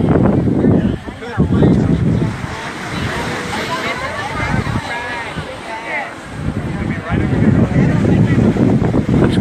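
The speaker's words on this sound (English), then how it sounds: "Got a little northwest wind that's shifted and brought us some much more comfortable weather out here today." Gusty northwest wind on an Outer Banks beach buffets the microphone with heavy, rumbling roars that swell and ease under a voice talking throughout, with surf washing in behind.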